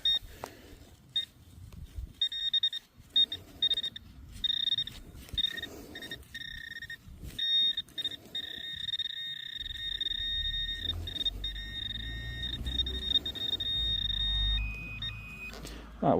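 Metal detector with a new coil, out on a UK field with its battery dying: repeated high electronic beeps and a steady tone pulse on and off amid rustling handling noise and wind, ending in a shifted, fading beep.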